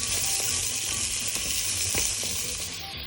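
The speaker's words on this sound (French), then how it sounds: "Après 1 minute, on ajoute les topinambours. On les fait revenir" Jerusalem artichokes sautéing in a pan over lowered heat, a steady close broadband sizzle with a few faint clicks of utensils, continuous and fairly loud.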